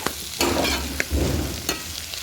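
Boti curry frying with ginger garlic paste over a wood-fired stove, stirred in a few loud scraping strokes over a continuous sizzle, no voices.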